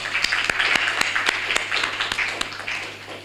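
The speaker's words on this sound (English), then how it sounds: "Let's give a round of applause." Audience applause at a Barbados business ideation workshop, a steady dense wash of clapping with sharper individual claps standing out, fairly near and continuous for the whole stretch.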